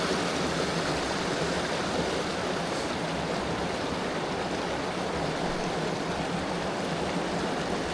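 Clear river current rushing steadily over rocks on a mountain stream in Deep Gap, North Carolina, near a hidden waterfall; a constant, full broadband wash of flowing water with no pauses and no voices.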